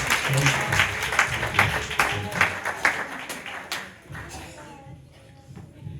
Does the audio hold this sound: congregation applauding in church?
yes